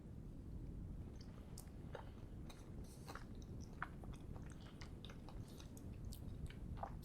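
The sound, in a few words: eating crunchy biscuit base dessert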